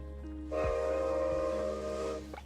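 Train whistle from the Create mod in Minecraft, a sustained chordal steam-like tone lasting about two seconds with a breathy hiss, loud and near, no speech.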